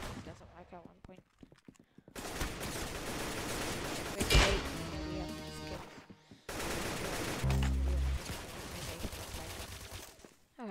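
Video game gunfire: rapid bursts of shots in several loud clusters, with a sharp blast near the middle, mixed with game effects and no clear talk.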